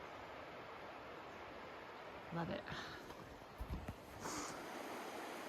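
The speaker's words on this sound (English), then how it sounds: "And the river's just down there somewhere, you can hear it." A river flows somewhere below a forest hiking trail in a chilly mountain valley of the Weminuche Wilderness, heard as a faint, steady distant wash beneath brief spoken remarks and a few close rustles.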